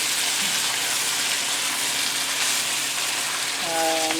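Leeks and mixed vegetables simmer and brown in a pan, giving a steady, close, bright sizzle that stays even throughout, with a faint tonal hum near the end.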